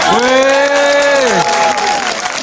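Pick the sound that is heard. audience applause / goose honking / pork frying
audience applause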